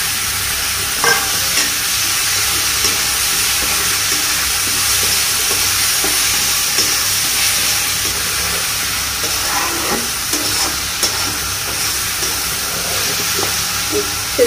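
Onions fry in a pan as small chopped pieces of meat go in: a loud, steady sizzle runs throughout, with scattered clinks and scrapes of stirring and no voices.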